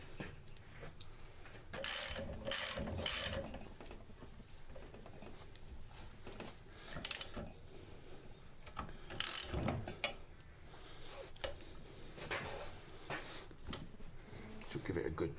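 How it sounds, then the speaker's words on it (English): A ratchet tightens a nut on the Watts linkage underneath a Land Rover Discovery 2, working from below. It gives short bursts of rapid clicking with pauses between strokes, close and fairly quiet. "attach, screw on the nut"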